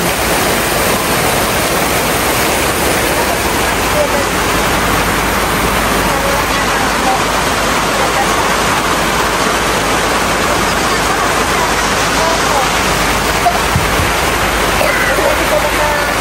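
A dense, steady roar of heavy rain fills the air without letup, loud and broadband throughout.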